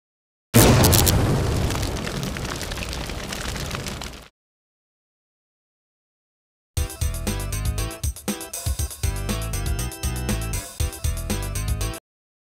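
A loud, close explosion boom erupts and rumbles on for several seconds before cutting to silence, then a second dense burst of crashing, roaring blast noise follows after a pause, with no voices.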